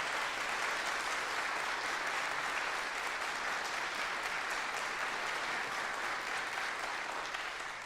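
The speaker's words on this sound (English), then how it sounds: "I think they deserve another round of applause" Concert audience gives a steady round of applause for the Evita Trio, a young chamber music group at a competition, dense even clapping holding at moderate level throughout without a break.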